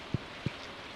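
Rain falling in the video game Stardew Valley, a steady soft hiss that fills the moment, marked by two dull low thumps a third of a second apart.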